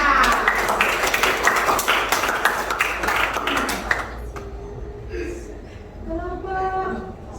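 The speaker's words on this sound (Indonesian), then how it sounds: "Tepuk tangan buat kelompok 6" Classroom of students applauding a student group after a presentation on consumer roles, a dense burst of clapping for about four seconds that then fades as talk and voices take over.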